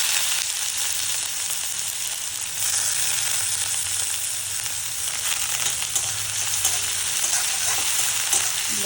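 Chopped garlic and then onion frying in a pan, a steady dense sizzle that holds evenly throughout with slight swells, close and alone with no voices.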